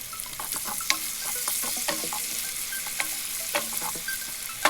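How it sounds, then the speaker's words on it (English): Onion fries in a hot pan while being stirred, giving a steady hissing sizzle broken by repeated scraping and clicking strokes of a utensil, close and clear with no talk. "put the onion into the pan. Stir the onion constantly."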